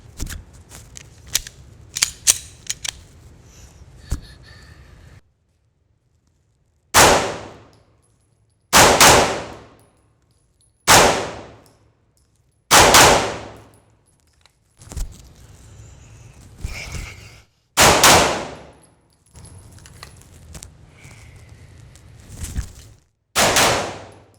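A Glock pistol with an aftermarket trigger fired outdoors: a quick cluster of sharp reports, then a pause, then a series of loud, evenly spaced single shots, each with a short ringing decay.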